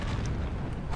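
Deep, booming artillery blast from a tank battle in War Thunder on a Karelia map, a single loud low rumble filling the whole short moment with no talk over it.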